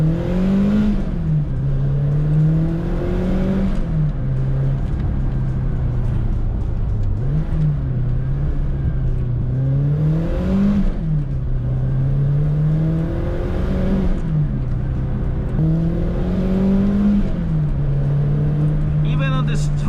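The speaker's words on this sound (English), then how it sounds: "I feel second gear when the turbo kicks in." Renault 5 Turbo 2, a Group B homologation special, accelerating hard through repeated gear changes, its engine note climbing and dropping in a steady rhythm of rising revs and shifts, heard close from inside the cabin throughout.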